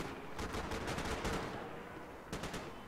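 Sniper and automatic gunfire in the Max Payne 3 video game, a dense spray of rapid shots rolling through the first half, then a short fresh burst near the end, all at a steady loud level with no talk.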